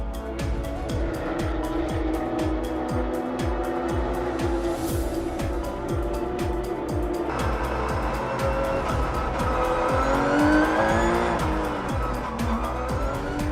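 Porsche GT3 Cup race cars accelerate hard in a pack as green-flag racing resumes, engines roaring through rapid gear changes with a continuous loud track-side drone and occasional tyre squeal, under faint commentary.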